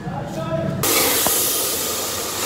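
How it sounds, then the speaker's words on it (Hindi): Spices for a tadka start sizzling in a hot pan with a sudden loud, broad hiss that holds steady and close. "मसाले को जो है वो तड़का लग रहा है"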